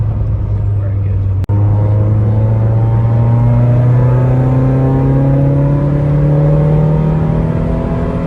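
SR20-swapped Nissan Bluebird with a lightweight flywheel, its engine revving up steadily and loudly from low down, a rising drone climbing smoothly across the whole stretch with one brief dropout, people talking over it.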